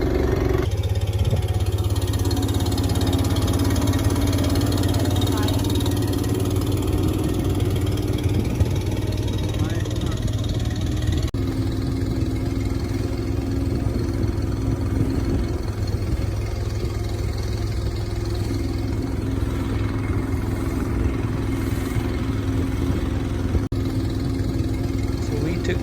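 A boat engine drones steadily and loudly throughout a roughly forty-minute coastal ride between Bottle Beach and Thong Nai Pan in Thailand, with a constant low hum and rushing water and wind noise, no clear voices on top.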